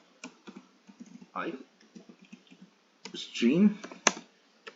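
Computer keyboard typing while writing C++ code, light scattered clicks in short runs, heard beneath someone speaking Hindi.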